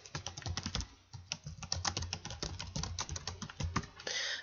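Rapid keyboard typing fills the whole stretch as a subtitle is entered on a PowerPoint title slide, a close, steady patter of key clicks with brief pauses and no talking.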